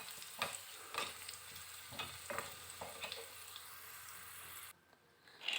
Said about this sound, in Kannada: ಈ ಸಕ್ಕರೆ ನೀರಿಗೆ ಈ ಒಗ್ಗರಣೆ ಹಾಕ್ಕೊಂಡು ಬಿಡೋಣ